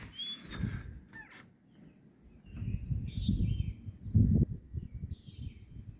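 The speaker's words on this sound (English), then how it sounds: "The birds are chirping up a storm at 3 a.m." Birds call in the dark at about 3 a.m. during light rain, a few brief chirps and warbling notes near and far over a low rumbling background of rain and distant noise.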